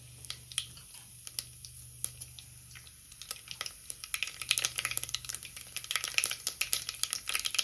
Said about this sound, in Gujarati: આવી રીતે રાઈને જીરું મૂકવાનું